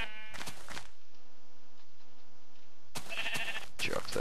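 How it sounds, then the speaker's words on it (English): Sheep bleating in Minecraft, several short close bleats in two bursts separated by a quieter stretch of game background. "Stupid sheep. Sheep are so annoying."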